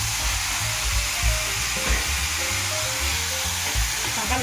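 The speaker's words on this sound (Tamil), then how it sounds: "தக்காளி நல்லா வதங்கட்டும்." Sliced tomatoes frying in hot oil with curry leaves for a spiced potato curry, giving a steady, close hiss and crackle that holds evenly throughout without pause.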